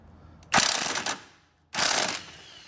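An impact wrench loosens a motor mount nut on a BMW E46 M3 with 171,000 miles. It gives two loud, close bursts of rapid hammering, each lasting about half a second to a second, separated by a brief pause.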